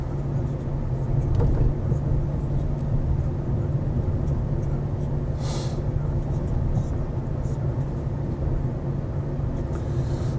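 A 2.0-litre automatic Citroen Xantia, about twelve years old, drives along with a steady low engine and road rumble throughout, and a brief louder whoosh midway.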